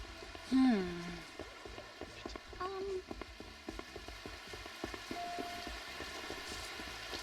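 Rain in the store-management game Retro Rewind, a steady soft patter that runs throughout under game sounds and a person talking.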